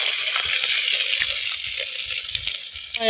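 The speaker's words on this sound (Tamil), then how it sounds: "எண்ணெய் காஞ்சிருச்சு பட்டை வகைகள் வந்து போடுறான்" Whole spices such as cinnamon bark sizzle and crackle steadily in hot sesame oil in a clay pot while a snail curry is cooked, a close, continuous frying hiss with scattered small pops and a brief louder burst near the end.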